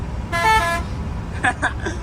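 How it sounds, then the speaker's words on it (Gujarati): A dumper truck's horn honks twice nearby: one long, steady blast, a short pause, then a second broken honk. "હોર્ન બાકી વગાડ દો તો એક વાર સાવનભાઈ"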